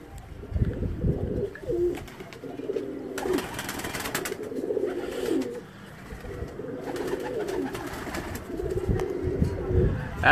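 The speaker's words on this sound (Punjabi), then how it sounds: "ਬੜੇ ਅੱਛੇ ਕਬੂਤਰ ਰੱਖੇ ਨੇ" High-flying pigeons coo in repeated low, throaty phrases close by on a rooftop, broken by a few brighter chirps, while a voice talks intermittently in the background.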